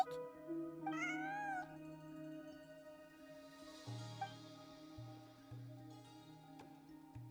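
A cat meows in the Genshin Impact video game, a short rising mew at the start over soft game music, followed by quieter background tones.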